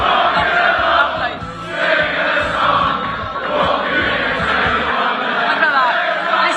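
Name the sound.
darts crowd cheering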